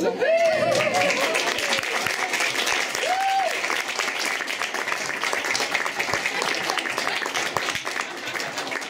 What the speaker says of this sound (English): I want you up a round of applause.